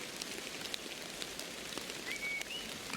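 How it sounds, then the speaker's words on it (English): Steady rain patters on a surface throughout a tabletop role-playing session, as a continuous soft hiss with scattered drop ticks, and a faint bird-like chirp cuts through near the end. "you all awake to the sound of rain"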